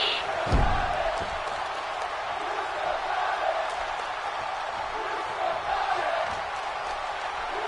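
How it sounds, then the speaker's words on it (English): A WWE 2K18 wrestling arena crowd roars and chants steadily through a match, a dense far-off mass of voices with a sharp slam-like thump near the start. "Chanting that he's still got it as he gouges the eyes of the Big Show"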